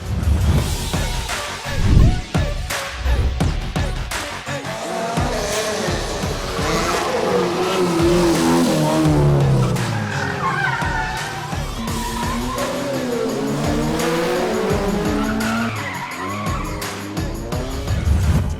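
Autocross race cars at the 2020 Philippine Autocross Championship on a parking-lot course, engines revving and shifting with long tire squeals and skids, loud and continuous across the run.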